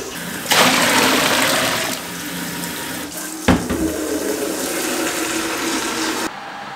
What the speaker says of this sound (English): In the background you can hear the HLT heating up the sparge water